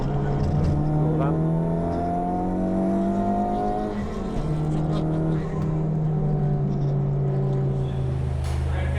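Honda race car engine on a track, either a naturally aspirated S2000 or a turbocharged Civic Type R, droning steadily and loud with shifting pitch throughout, someone talking over it.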